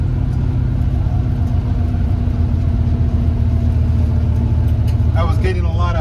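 A car engine idling steadily and close by after new spark plugs, a continuous low rumble with a brief higher rattle near the end.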